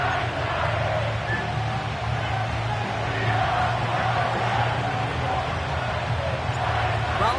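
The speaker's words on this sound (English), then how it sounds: "you can already hear this home crowd rally in support of that upset" A home crowd fills Nissan Stadium with a dense, continuous roar and cheering before a football kickoff, a loud wash of many voices with no breaks, under commentators talking.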